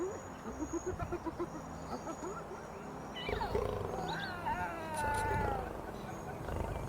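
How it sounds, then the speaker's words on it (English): Gaunt lion cubs mewling softly while pressed against their mothers, a few thin rising and falling cries in the middle, over low outdoor rumble and scattered animal noises. "The 4 gaunt cubs press against their mothers, mewling softly."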